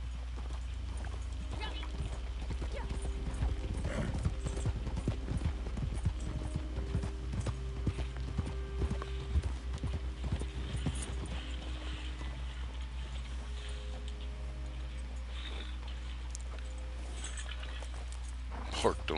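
Horse hooves clip-clop steadily in a PS4 video game as the horse climbs a steep hill, a quiet rhythmic patter under a low constant hum, with a person talking over it.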